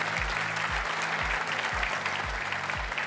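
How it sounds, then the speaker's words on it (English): An audience at the World Chocolate Master award ceremony claps in steady, dense applause, moderately close and without any speech. "may I have a big round of applause for Cacao Barry making this event possible"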